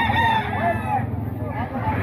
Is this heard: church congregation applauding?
no